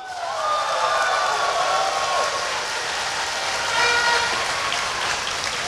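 Steady applause from an audience at a political rally in Malaysia, loud and continuous throughout, a dense wash of clapping with crowd noise and no pauses.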